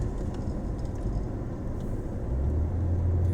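Steady low road rumble from inside a moving camper van, a constant drone of engine and tires that swells slightly louder toward the end.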